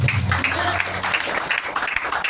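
A congregation claps at a women's worship service in Jakarta, a fairly loud burst of many hands with uneven rhythm, layered over a sustained tone from instruments or voices.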